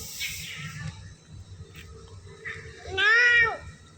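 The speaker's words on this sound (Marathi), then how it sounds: "बापरे म्याऊ म्याऊ करते बघ" A house cat at home during a Ganpati festival gives a single short rising-and-falling meow near the end, after a few seconds of quiet background noise.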